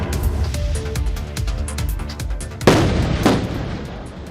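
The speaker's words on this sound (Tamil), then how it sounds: "ஜம்மு ஸ்ரீநகர் தேசிய நெடுஞ்சாலையில் விழுந்த ராட்சத பாறைகளை வெடிவைத்து தகர்த்த காட்சிகள்தான் இவை" Explosive blasting breaks up giant boulders that fell onto the Jammu–Srinagar National Highway in a landslide. Two sharp, loud booming blasts land close together near the end, over a steady background bed.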